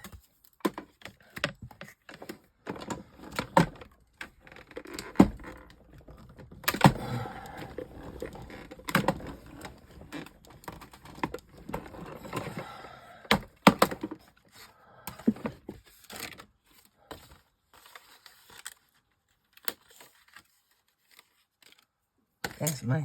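Scissors cut out a paper printable in a quiet room, producing soft, close snips and paper rustles in irregular bursts, with a voice talking faintly at times.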